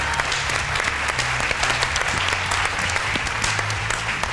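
A studio audience on a Pakistani children's quiz game show applauds the young contestants with dense, steady clapping that fills the whole stretch, while low music hums faintly underneath.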